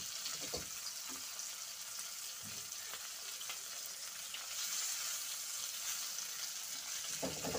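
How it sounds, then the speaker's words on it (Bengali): Morola fish coated in mustard spice paste sizzle and crackle in a pan of hot oil, a soft continuous frying hiss with occasional stirring clatters and pops, fairly quiet and close. "এপাশটা ভাজা হয়ে গেলে নামিয়ে নেব"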